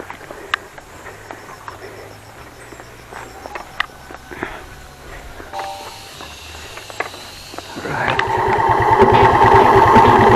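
A motorcycle engine starts up beside a road after quiet background with scattered clicks and light footsteps, then settles into a loud, steady, throbbing idle close by.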